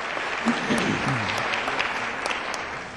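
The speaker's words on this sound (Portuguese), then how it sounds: "eu gostaria que os amigos dessem uma salva de palmas pela presença dessa grande figura aqui" Applause fills a formal solemn session honoring guardianship councillors, a steady dense clapping from a large seated crowd that holds level throughout with a faint voice underneath.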